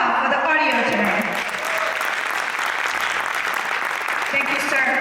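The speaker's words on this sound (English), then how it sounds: "let's give a big round of applause, heartfelt applause, to Mr. Minal Shah for the audio tonight." Sustained audience applause at a painting auction evening, a dense continuous roar of clapping from a sizable crowd, with a voice audible over it at the start and end.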